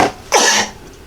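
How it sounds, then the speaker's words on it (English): A single person coughs once, a short harsh burst close to the mic, followed by a quiet breathy tail and near silence. "excuse me for coughing in your ear"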